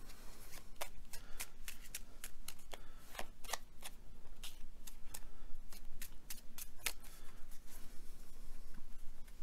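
Cards for a Conflict of Heroes board game being shuffled, giving a steady run of crisp riffling snaps and flutters over a quiet room, close and fairly soft, with no voices.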